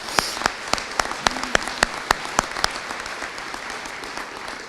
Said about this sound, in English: offer a round of applause to Eric